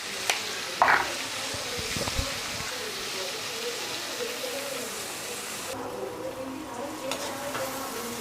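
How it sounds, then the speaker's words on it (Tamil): Onions with dried red chilies and curry leaves fry in a pan for a chicken pepper fry, giving a steady, close crackling sizzle with occasional stirring scrapes and a brief clatter near the start. "வெங்காயம் நல்லா வதங்கட்டும்."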